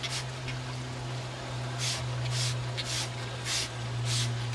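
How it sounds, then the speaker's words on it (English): Sealant sprayed onto a brick wall, worked from the top downward along the mortar joints: a series of short hissing spray bursts over a steady low mechanical hum, with no talking. "and then start to spray"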